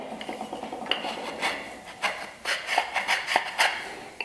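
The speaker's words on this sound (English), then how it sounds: "the only thing really left to do now is just to clean the inside corner using a chisel" A chisel scrapes and taps at the inside corner of a hand-cut wooden miter joint, giving a series of close, irregular scraping strokes and light wooden knocks with no voices.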